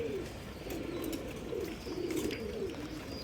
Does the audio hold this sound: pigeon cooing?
yes